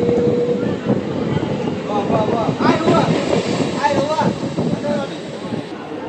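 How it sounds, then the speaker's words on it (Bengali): Inside a moving passenger train, a continuous low rumble and rattle fills the carriage while several people talk nearby over it. "আমরা এখন ট্রেনের মধ্যে আছি"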